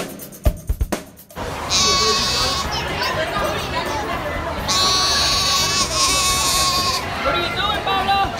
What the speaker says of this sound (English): It's a baby goat.